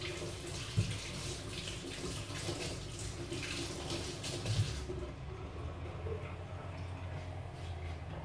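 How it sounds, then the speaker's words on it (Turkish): Green peppers and tomatoes being washed under a running kitchen tap, a steady broadband water rush for about five seconds before the flow stops and only quiet room tone remains. "Unutmadan yıkayayım bunları."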